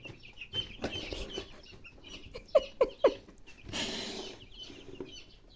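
A few soft clucks and cheeps from chicks, three quick distinct calls midway, over a quiet background with occasional rustling.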